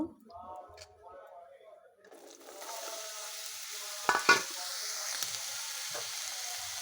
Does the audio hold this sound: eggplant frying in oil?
yes